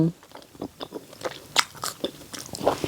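Crunchy takeaway food ordered in Australia is bitten and chewed up close, with irregular crisp crunches and brief chewing noises, with no clear speech.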